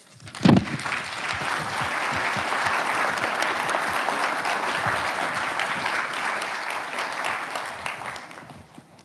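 An audience at an evening lecture on blue-and-white porcelain from the Jingdezhen Luomaqiao kiln site bursts into sustained, dense applause to welcome the speaker, holding steady for several seconds before tapering off.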